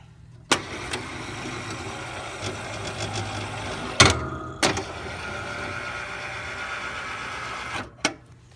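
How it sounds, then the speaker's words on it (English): A tractor's electric lift motor whirs steadily for several seconds, with sharp clicks and clunks as it starts, shifts and stops. "you hear the electric lift"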